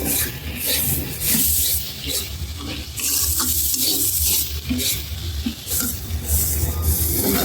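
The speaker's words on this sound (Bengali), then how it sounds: "সামান্য পরিমাণে দিয়েছি আদা বাটা কিছুক্ষণ একটু ভেজে তারপর ভেন্ডিগুলি দিয়ে দিব" Ginger paste frying in oil in a pan, a loud close sizzle with repeated rhythmic scraping stirs in bursts, no voices.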